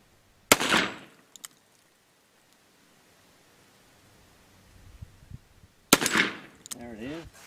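Two sharp, loud gunshots from a stainless Colt Python .357 Magnum revolver with a 4-inch barrel, fired several seconds apart outdoors, each a sudden crack with a short decay, the quiet between broken by faint clicks and brief talk after the second shot.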